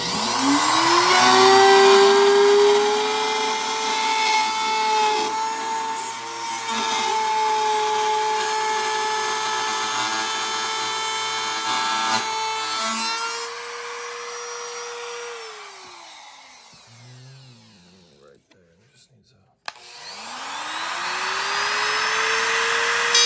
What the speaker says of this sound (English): So notice how we just used the router to clean the line up.